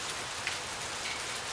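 Heavy rain pours down in a steady, dense hiss of drops pattering on surfaces, close and constant throughout the short stretch with no voices.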